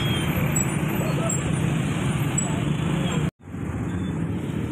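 Morning traffic jam around 7 a.m. on a narrow, gridlocked road in Malang, with cars and other vehicles packed together: a dense, continuous engine and road rumble that cuts out abruptly for a split second before resuming.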